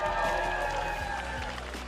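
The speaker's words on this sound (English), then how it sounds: "And what about a round of applause for the victorious Huhi here?" Crowd at an LCS esports match applauding the winning player, a broad wash of clapping and cheering that fades slightly, with voices mixed in.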